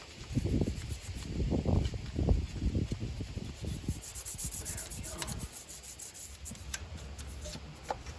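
Hand scrubbing of a car engine bay during cleaning: close, rough rubbing strokes that come in uneven bursts, loudest at the start and then thinning into lighter scuffs and faint scratching.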